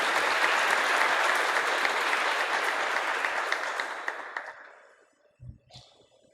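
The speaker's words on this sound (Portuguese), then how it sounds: "Uma salva de palmas para o Hilton, por favor." Audience at a didactic symphonic concert applauds a violinist, a dense full clapping that holds steady and then tapers off into scattered claps.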